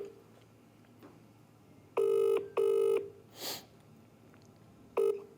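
A telephone ringing in two long electronic bursts, followed by a brief third ring, with a short whoosh between; fairly loud and close, no talking.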